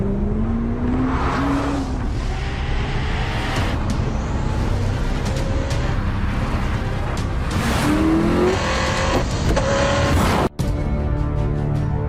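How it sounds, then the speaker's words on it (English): Hennessy Venom GT supercar engine roaring continuously and loudly, with rising revs and gear changes heard over road and wind noise. "The Hennessy Venom GT."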